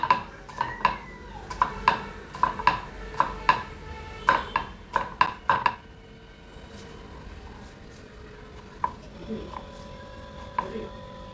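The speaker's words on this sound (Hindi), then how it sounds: "सो अब हम काटेंगे प्याज।" A knife chops onions on a board in a home kitchen, a quick run of crisp, evenly spaced taps for about six seconds, then a few scattered cuts, close and fairly quiet.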